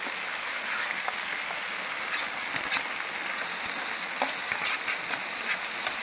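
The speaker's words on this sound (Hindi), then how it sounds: "अब मैं इसके अंदर ये जो हरा धनिया और हरी मिर्चों का मैंने पेस्ट बनाया था ये मैं इसके अंदर डाल रहा हूँ" Chicken sizzles loudly in a pan for a green shawarma as a green coriander and green chili paste is stirred in, a dense steady frying hiss with occasional spoon scrapes, no talking.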